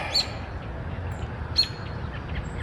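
Two short, high chirps from birds in a garden with a railway, spaced more than a second apart over a low outdoor rumble, with no talk.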